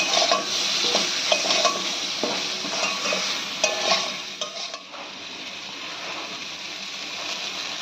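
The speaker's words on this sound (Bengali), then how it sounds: "লবণ হলুদ দিয়ে ভালো করে বেগুনের সঙ্গে মিশিয়ে নিতে হবে। আর 5 মিনিট আরো ভালো করে ভেজে নিতে হবে।" Eggplant pieces frying with salt and turmeric in a pan, a steady close sizzle with repeated scrapes and stirring clinks from a utensil, the activity easing off halfway through while the frying hiss continues.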